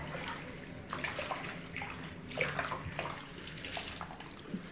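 Water runs steadily into a tub, with splashing surges rising and falling over a constant gushing hiss.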